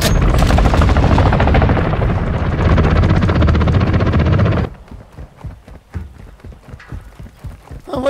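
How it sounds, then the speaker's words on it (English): Helicopter in a Call of Duty video game, loud rotor roar mixed with gunfire for several seconds, then abruptly cutting out to quieter scattered clatter and shots. "I wonder why the audio from your helicopter keeps cutting out."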